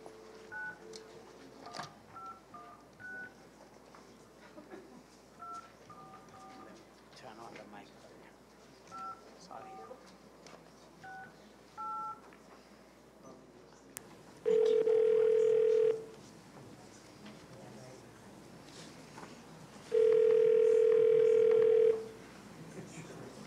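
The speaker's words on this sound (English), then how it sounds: "The first person by phone is Joan Militello" Telephone keypad tones dialing out for a call at a public advisory committee meeting, two long steady dial-tone bursts following a series of short beeps, with faint room murmur beneath.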